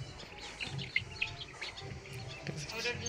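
Chickens cluck and chirp faintly at a short distance outdoors, scattered soft calls over a light background hum.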